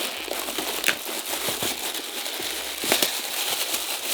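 Crinkling plastic bag holding football boots being handled and pulled open, with scattered crackles and rustles up close and no voices.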